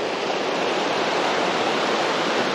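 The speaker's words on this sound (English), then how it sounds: "When the water flows that fast, it's nice and clean too." Fast-flowing river water rushes beside a sheer cliff and eroded banks, a dense, steady roar heard up close with no voices over it.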